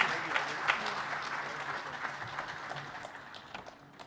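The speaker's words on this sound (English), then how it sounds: "a warm applause for him as he takes the stage" A crowd gives steady applause as the Deputy President of the Republic of Kenya takes the stage in Mombasa, with dense clapping holding throughout and fading slightly toward the end.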